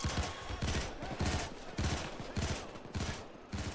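Sentry guns in the Payday 2 biker heist fire sustained automatic bursts in rapid, repeated volleys, loud and close throughout, with no voices over them.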